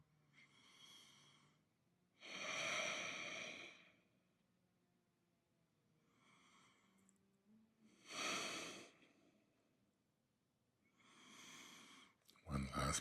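Slow, deep breaths during a knee stretch in a yoga-style session, heard as long airy inhales and exhales that rise and fall about every three seconds, close to the mic and loud against quiet background.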